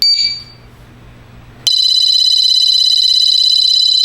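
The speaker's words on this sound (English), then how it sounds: "Now I'm going to re-trip the alarm so you can see it in a flashing mode." A Mosaic MA20 portable motion sensor alarm gives a brief beep, falls quiet, then bursts into a loud, piercing, continuous high electronic tone that holds steady up close.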